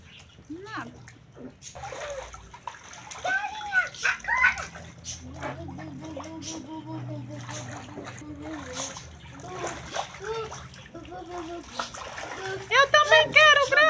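Children splash and play in a small gift swimming pool, with intermittent water splashes mixed under frequent excited kid voices and chatter.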